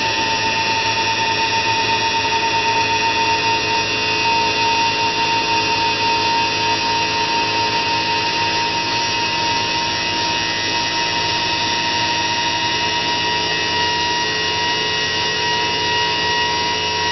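A homemade turbine built from tin cans runs as a steady, loud, roaring whine with a rasping hiss and a sustained tone on top, holding constant for the whole stretch.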